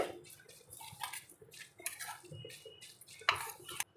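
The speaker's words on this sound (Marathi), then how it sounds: "आपल्याला को कोशिंबीर व्यवस्थित मिक्स करून घ्यायचे" Carrot salad with finely chopped coriander being mixed in a bowl: soft, quiet scraping and small clinks of a utensil against the dish, close by, with no voices.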